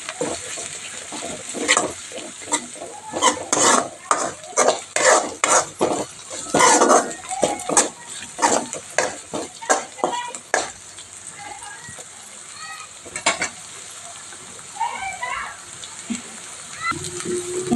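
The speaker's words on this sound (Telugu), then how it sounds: "పచ్చివాసన పోయేదాకా వేయించుకోవాలి" Ginger garlic paste fries in a pan with repeated scraping and stirring strokes over a steady sizzle, busy for the first ten seconds then settling into quieter frying with occasional utensil knocks.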